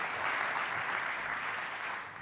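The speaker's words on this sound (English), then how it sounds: "Let's give him a big round of applause." Business conference audience applauding as a company CEO and founder is welcomed on stage, a steady wash of many hands clapping at once, full and unbroken throughout, tapering slightly at the end.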